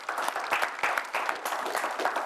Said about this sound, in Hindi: हमारा फर्ज बनता है कि हम जरा तालियां बजाएं।